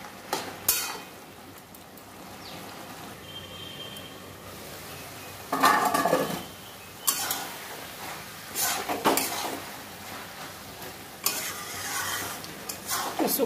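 Boiled cabbage and potatoes for a vegetarian Bengali curry sizzle softly in a pan while a spatula stirs and scrapes in intermittent bursts, with occasional metallic clanks.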